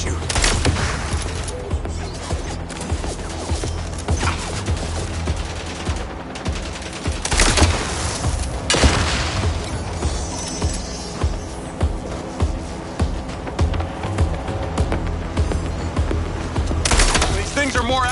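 Dense bursts of rapid gunfire in the video game MindsEye, with sharp louder shots standing out above a continuous noisy game mix throughout.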